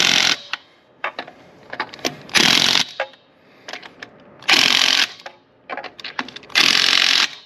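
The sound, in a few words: tightening lug nuts on a 2024 Silverado 2500 HD wheel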